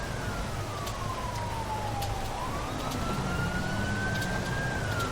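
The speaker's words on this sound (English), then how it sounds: "You can see the ambulance." An ambulance siren wails in the video game GTA V at a motorway crash scene, its tone sweeping slowly down and then back up over a constant rumble of traffic.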